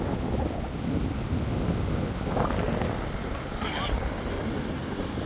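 Steady wind roars and buffets the microphone at the seaside while fishing from the shore at La Turballe, a constant broadband rush with faint surf beneath and no clear voices.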